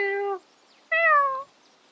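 A person imitates a cat, giving two drawn-out, convincingly realistic meows separated by a short pause.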